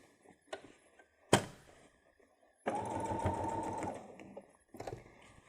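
A sewing machine stitches a fabric travel pouch: a short burst of quiet stitching, a sharp thunk, then a loud steady run of rapid stitching lasting over a second before stopping, with handling clicks around it.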